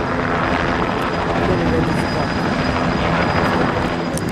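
A police helicopter circles overhead near Jože Pučnik Airport, its rotor and engine a loud, continuous, close drone throughout.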